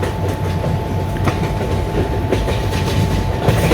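A train runs steadily along the tracks between Ahmedabad and Vadodara in an Indian train simulator game, a continuous loud rolling rumble with faint rhythmic clacks and no talk.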